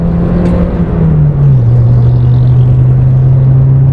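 Smart ForFour 2004 with a 1.5-litre engine (shared with the Mitsubishi Colt), revving steadily up close; a loud continuous drone whose pitch dips briefly then holds, with no talking.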